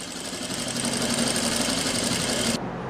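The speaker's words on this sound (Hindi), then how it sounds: "तो ऐसे ही हमने एक सिलाई बिल्कुल नीचे लगा देनी है" A sewing machine runs steadily while stitching a seam on a salwar, a close, continuous mechanical whir with a fast, even rattle that stops abruptly near the end.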